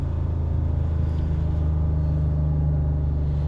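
A GM PD-4104 bus's diesel engine held at a raised, steady RPM above idle, a continuous deep low rumble with no talk over it.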